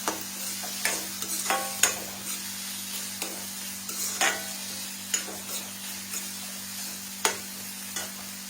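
Onion and tomato roasting in a pan over medium heat, a low sizzle punctuated by sharp spatula scrapes and taps at irregular intervals, close by with a steady hum underneath.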